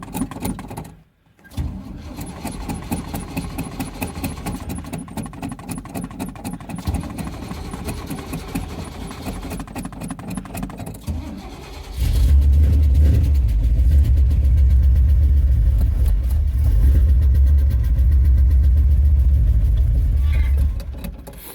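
Ramp truck engine cold-starting in a blizzard, idling with a light lifter tick; a steady rattly idle gives way to a louder, deeper rumble partway through, close and continuous.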